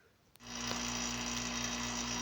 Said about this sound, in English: I have the ampoule hooked up to the pump and evacuating